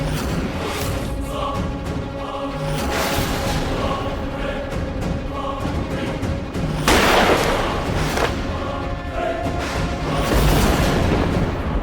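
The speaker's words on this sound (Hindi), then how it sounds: "बाहर से गोली चलने की आवाज आ रही है।" Dense, continuous gunfire and booming bursts, loud and sustained, with heavier blasts near the middle and end; no talking.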